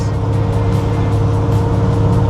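A 1951 Ford Custom cruises at 65 mph around 2,000 RPM, a loud, steady engine drone with road rumble and wind noise continuing without a break.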